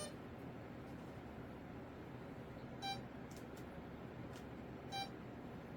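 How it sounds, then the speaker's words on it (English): An RC airplane's electronic speed controller gives calibration beeps, two short bright bursts a couple of seconds apart over a quiet, faint background hiss. "listen to the beeps"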